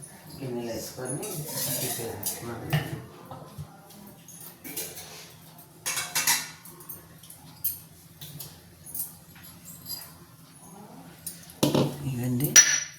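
Steel pots and utensils clink and clatter on a lit stove while ragi dosa is being prepared, with scattered light metallic knocks spread across the stretch and a voice speaking softly in between.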